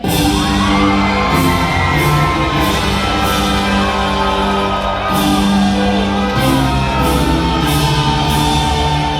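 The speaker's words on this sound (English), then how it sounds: "Turn and hear your people cheer." A large audience cheers and shouts for knights at a Medieval Times dinner tournament, a loud, sustained roar of voices with whoops and yells rising and falling in waves across the arena.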